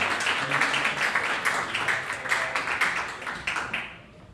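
An audience at a school athletic achievement ceremony applauding award winners, a fairly soft, dense crowd of clapping that fades out toward the end.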